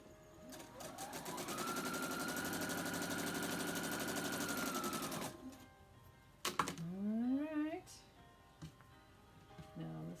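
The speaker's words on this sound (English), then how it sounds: "now I can sew that one on here" A sewing machine stitching quilt fabric runs in a steady, fast whirring burst for about five seconds, then stops, followed by brief clicks and a rising squeaky whine.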